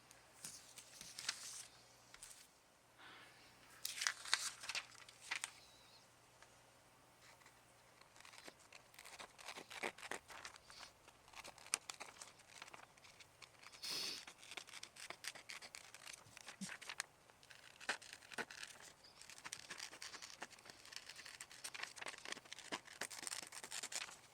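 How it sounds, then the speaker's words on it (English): Scissors snipping a paper picture of Our Lady, with soft crinkling and rustling of the sheet in a quick irregular patter of small close cuts, faint and intimate, with no talking. "The first thing I'm going to do is to cut out Our Lady."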